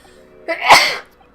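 A single loud sneeze from a man in an Ace Attorney game scene, a short inhale followed by a sharp burst, heard alone and close.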